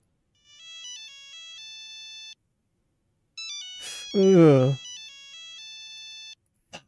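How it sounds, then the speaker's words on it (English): An old-style mobile phone ringtone plays a bright, beeping electronic melody in two short bursts, loud and clean, interrupted by a brief groaning voice in the middle. "there used to be a time when that was everyone's ringtone"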